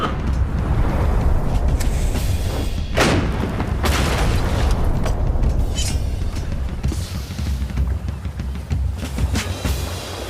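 Cannon fire in the video game Meow net, heavy booming blasts with one sharp shot near three seconds and another around five, over a constant loud rumble of engine-like noise, with no talk.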